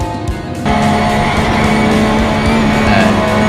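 A car races past on the Nürburgring Nordschleife, its engine roaring loud and close with a steady, high-revving drone that swells as it goes by.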